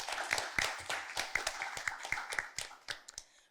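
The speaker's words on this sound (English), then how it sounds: "Also give her a round of applause." A small group claps in a brief round of applause at a secondary school debate, individual sharp claps clearly audible, thinning out and fading toward the end.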